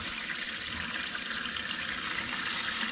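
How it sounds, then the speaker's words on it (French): Cold water runs steadily from a tap into the sink of a camper van, a continuous hissing splash that stays even and close throughout. "On va faire couler l'eau froide."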